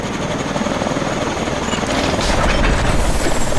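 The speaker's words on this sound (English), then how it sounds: "Get to the warbird, Mitchell" Warbird aircraft in the Call of Duty Advanced Warfare video game, a whirring, rotor-like engine drone that grows louder and rougher partway through.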